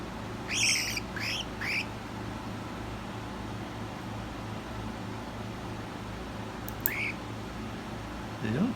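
A pet cockatiel gives a few sharp, rising chirps during a nail clipping, clustered near the start and again later, close and fairly loud over a steady low background hum.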